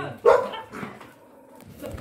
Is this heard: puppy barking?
yes